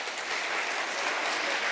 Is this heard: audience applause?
yes